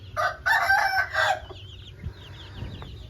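An Aseel rooster crows loudly and close by in one long, broken call with several bursts, followed by quieter farmyard bird sounds.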